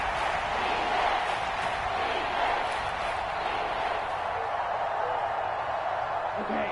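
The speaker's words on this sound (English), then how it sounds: "The crowd getting into it as we come up on a big 3rd down." Football video game stadium crowd cheering ahead of a big third down, a steady, dense roar holding at the same loud level throughout.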